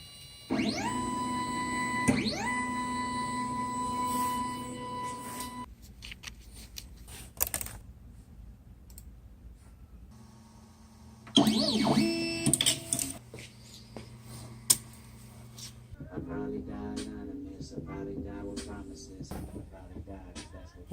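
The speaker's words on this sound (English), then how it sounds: "Do I let it print waste filament and see if it can print it?" A 3D printer laying down a part, its stepper motors giving tonal whines and chirps that start, hold and stop in bursts with pauses between, close by in a quiet room.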